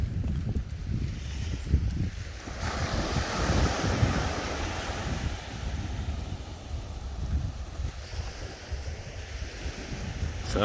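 Ocean waves rolling onto the beach at a bay in Barbados near Bridgetown, a continuous roar of surf mixed with wind buffeting the microphone, steady and fairly loud with no speech.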